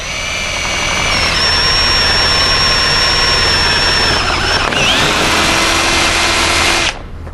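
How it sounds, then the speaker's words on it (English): Drill slowly boring through the aluminum outer skin of an Airstream European or Sport trailer with a 3/8 bit, a loud sustained whine with a shifting pitch partway through, stopping abruptly at the end. "And we want to drill it slow."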